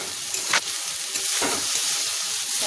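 Saag leafy greens fry in a pan with a steady, loud sizzle and hiss, broken by a couple of brief stirring scrapes.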